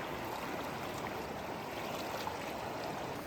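Deschutes River flowing beside a campground, a soft, continuous rushing and trickling of water heard from nearby at low volume, with no voices.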